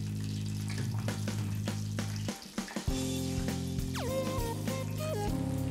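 Pieces of red snapper fry in a pan of hot oil, with a steady dense sizzle and crackle throughout, a brief dip near the middle, then a few clinks and tonal scraping sounds over the continuing sizzle.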